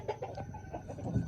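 A fighting rooster clucks up close in a quick run of short, throaty calls, with no voices over them.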